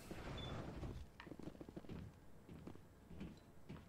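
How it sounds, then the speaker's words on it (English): Footsteps in Mass Effect aboard a shut-down ship, soft irregular thuds set against a dense, droning low ambience, with a few sharper knocks spread through the passage. "Sounded like footsteps."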